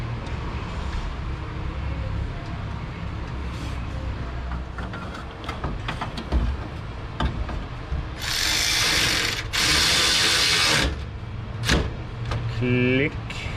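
A ratchet tightens a nut and bolt on a Subaru Forester, with scattered tool clicks and clanks followed by two sustained bursts of rapid ratcheting, close up and with no talking.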